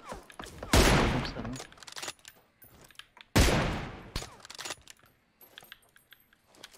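Two loud, close bursts of rapid gunfire from the PUBG Mobile shooter on the Miramar map, each trailing off with rattling shell and mechanism clatter, followed by quieter clicks and small metallic sounds.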